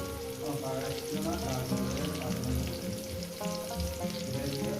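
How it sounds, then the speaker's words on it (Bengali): Drumstick (moringa) stems fry in a pan for a vegetable and poppy seed curry, giving a steady, moderate sizzle that runs under background music throughout. "সজনে ডাটাটাকে দিয়ে আরও দু মিনিট ভাজি"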